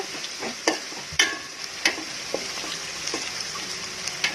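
Onion with garam masala and nutmeg frying in a pan, a soft steady sizzle broken by sharp spoon scrapes and clicks against the pan at irregular intervals, close and fairly quiet, with no talking.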